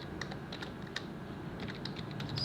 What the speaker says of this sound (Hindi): एंटर हमने प्रेस किया